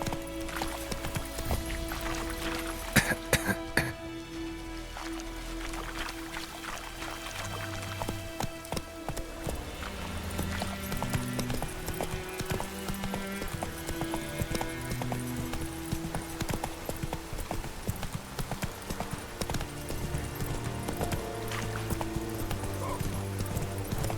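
Roach the horse galloping in The Witcher 3, steady rapid hoofbeats running throughout beneath game music and ambience, fairly quiet overall.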